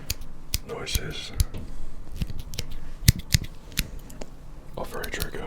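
Borrowed scissors giving crisp little chopping snips up close, scattered in irregular clusters, while a soft whispery voice talks intermittently.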